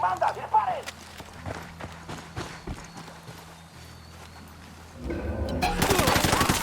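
Gunfire erupts during a squad assault to rescue Amaru at Itacua in Ghost Recon Wildlands (2017): sharp, scattered shots build into a dense, loud burst of firing near the end, with voices talking throughout.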